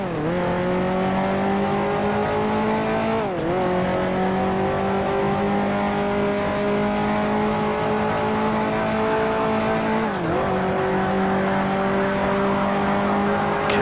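A 1955 Formula One racing car in the Grand Prix Legends simulation at the Argentine Grand Prix holds a loud, sustained engine drone, pitch slowly rising through each gear with two sharp dips at gear changes, close and without talk.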